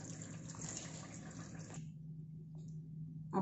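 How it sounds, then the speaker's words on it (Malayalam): Cold water is poured over cooked vermicelli draining in a strainer. It makes a steady splashing pour for under two seconds, then stops abruptly, leaving a faint hum. "ഈ സേമിയക്കകത്തോട്ട് കുറച്ച് തണുത്ത വെള്ളം കൂടെ ഒഴിക്കുകയാണ്"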